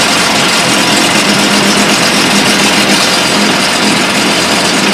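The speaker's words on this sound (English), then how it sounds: "go ahead and crank the starboard engine" A 2004 Sea-Doo 200 Speedster boat's starboard engine runs steadily at idle, a loud, continuous broadband drone with a low rumble that holds evenly without pauses or voices.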